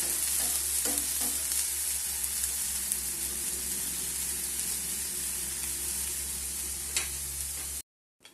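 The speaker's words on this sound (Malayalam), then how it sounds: "നമ്മുടെ ചെമ്മീൻ നല്ലതുപോലെ റോസ്റ്റ് ആയിട്ടുണ്ട്" Shrimp roasting in a pan gives a steady, close sizzle with a few scraping stir strokes, fairly loud and continuous until it cuts off near the end.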